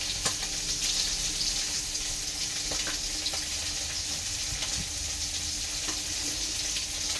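Pabda fish frying in a pan gives a steady, close crackling sizzle with faint scattered pops throughout, heard alone with no talk.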